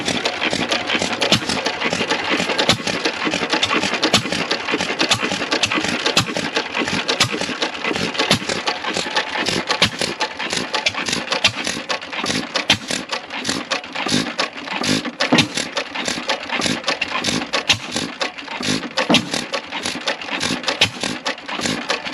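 A Witte 3 hp hit-and-miss engine with a Wico EK magneto runs steadily up close, giving a dense, continuous mechanical clatter of rapid ticks and rattles that holds its loudness throughout.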